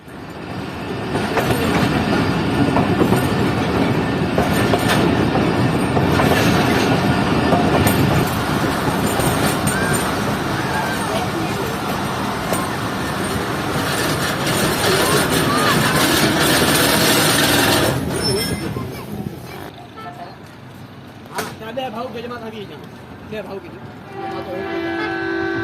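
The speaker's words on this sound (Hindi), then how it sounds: "हमारी ट्रेन इस वक्त पहुंच रही है सिंध यूनिवर्सिटी रेलवे स्टेशन पर" A passenger train rumbles and rattles along the tracks with clattering wheels, slowing and growing quieter toward the end as it arrives at Sindh University railway station, with faint voices nearby.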